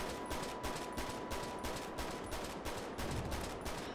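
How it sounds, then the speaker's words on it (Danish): Rapid bursts of gunfire from a GTA 5 roleplay game rattle continuously, with sharp, evenly spaced shots repeating about twice a second and staying loud throughout. "Hold da kæft, der var mange skud der."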